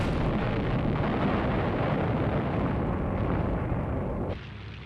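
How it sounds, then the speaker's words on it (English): Japanese Zero fighter planes strafe airstrips with gunfire in a continuous, dense roar of rapid shots and blasts, loud and unbroken before easing slightly at the end, with no voices. "Japanese Zero fighters strafed US aircraft lined up on the island's airstrips."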